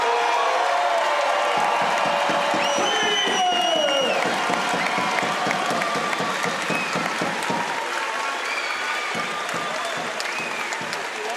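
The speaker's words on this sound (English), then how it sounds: "the capacity crowd here in Vertu Motors Arena showing their appreciation" Capacity crowd in a basketball arena applauds and cheers loudly and continuously, with whoops rising over dense clapping throughout, for a Newcastle Eagles home game at Vertu Motors Arena.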